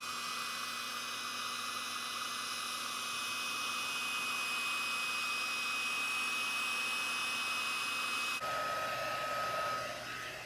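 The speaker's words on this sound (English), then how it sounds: "We're going to use the heat embossing tool on high." Heat embossing tool running on high, melting gilding powder: a steady, loud blowing roar with a constant hum that holds for about eight seconds, then shifts abruptly in tone near the end.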